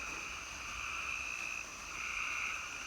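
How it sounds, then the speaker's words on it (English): Steady chorus of pond frogs croaking together during night rain, continuous and fairly loud, with a pulsing high trill running throughout and no voices. "Those frogs are coming from the pond."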